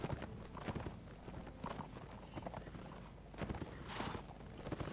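Horse hooves clip-clopping in the video game The Last Days of the Third Age, a steady walking rhythm of repeated soft thuds mixed into busy game noise and ambience.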